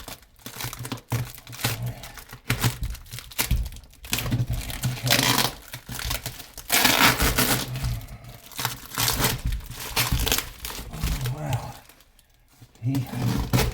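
Packing tape being ripped and peeled off a heavily wrapped box holding a Homelite Super XL-12 Automatic chainsaw, loud close bursts of tearing and crinkling cardboard in uneven runs, with someone talking at times.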